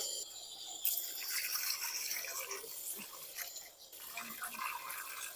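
Ingredients for a Lao snakehead fish soup being rinsed in water before boiling, with steady splashing and dripping close by and no talk.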